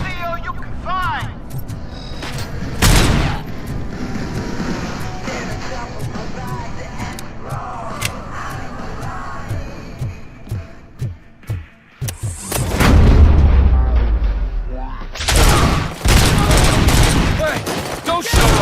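Bursts of gunfire in RoboCop: Rogue City, sharp loud shots clustered into rapid volleys, with heavier thuds and booms toward the end and a voice heard among the shooting.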